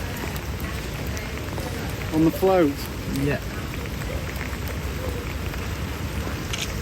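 Steady rain falls while catfish fishing in Thailand, a constant hiss of drops on surfaces. Brief voices talk over it partway through.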